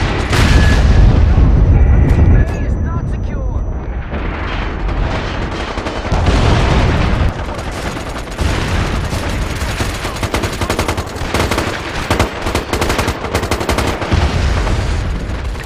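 Heavy gunfire and booming blasts from a large-scale Domination battle in the shooter MAG, with dense automatic bursts and explosions up close at first, then rapid crackling shots continuing without a break.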